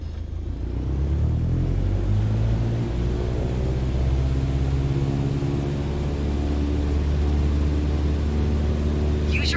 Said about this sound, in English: Apply full power and I'll walk you through the takeoff as we go.